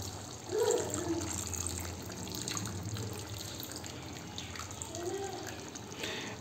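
Flour mixed with water pours into a simmering vegetable gravy, giving a soft, continuous liquid splashing and bubbling that stays close but faint from start to finish.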